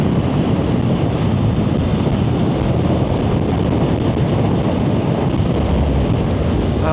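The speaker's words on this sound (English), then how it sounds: "provided that the wind doesn't blow me off the road here" Wind blasting across a microphone during a motorcycle ride, a steady, loud, broadband roar that stays constant throughout with no breaks and no speech.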